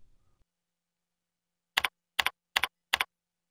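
Four crisp, evenly spaced keystrokes on a computer keyboard as a password is entered, close and clear against near silence after a brief faint murmur at the start.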